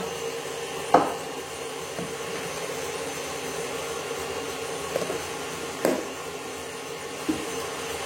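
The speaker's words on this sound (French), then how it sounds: "on va laisser le robot faire, il sait faire" A kitchen mixer whirs steadily while beating eggs with brown sugar for a chocolate pear cake, a constant, moderately loud motor hum broken by a few light knocks.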